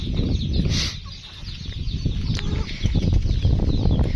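Chickens cluck and call nearby on a farm, with a burst of wing flapping and scattered squawks over a busy, steady background.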